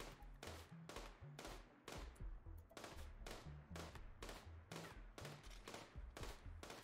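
Rapid volleys of gunfire from colonists shooting in the Rimworld video game, set in an ice sheet colony under toxic fallout, with sharp repeated bursts in a steady rhythm throughout, loud and dense with no talk.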